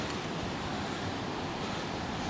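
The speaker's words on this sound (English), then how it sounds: "We've still got a head-on wind. As you can see, it's gusty, really gusty." Gusty head-on wind on a shore during extreme storm conditions, buffeting the microphone with a steady, loud roar and rushing surf-like noise throughout, with no voices.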